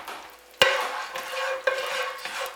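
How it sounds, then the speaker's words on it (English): Flour-dusted lamb shanks dropped one at a time into hot olive oil, a sharp sizzle bursting up at each drop and settling into a steady, close frying hiss. "Then we want to dust our shanks one at a time and stick them in."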